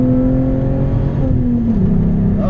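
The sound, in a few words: VW GTI engine revving through MagnaFlow catback exhaust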